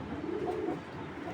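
A pair of pigeons held in hand give a short, soft, low coo, faint and close, with no other sound around it.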